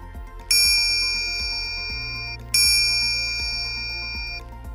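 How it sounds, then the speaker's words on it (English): A minute repeater wristwatch chimes the time: two clear, bright metallic strikes about two seconds apart, each ringing out and slowly decaying over a soft repeating low mechanical tapping. "A minute repeater audibly chimes the current time on demand, through a series of dings and dongs"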